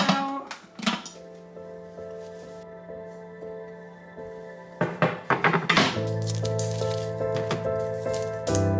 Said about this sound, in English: Get our crock pot out.